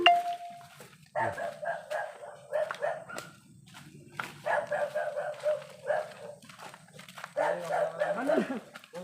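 Dogs bark in short bursts at a middle distance, several rounds with pauses between, along with footsteps and faint background sounds.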